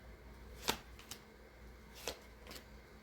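Tarot cards being shuffled and pulled from the deck: a few crisp, quick papery snaps spaced out over a quiet background, with no voices.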